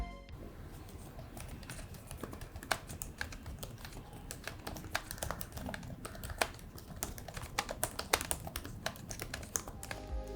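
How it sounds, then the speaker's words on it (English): Steady, soft typing on a Dell XPS 13 (2020) laptop keyboard with quick irregular clicks and taps, close up and fairly quiet, continuing throughout with no voices. "I'm also quite surprised that this is a very quiet keyboard."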